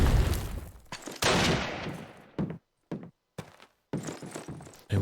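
Gunfire in a Call of Duty match, with bursts of rapid shots followed by short single reports separated by brief silences, loud and close.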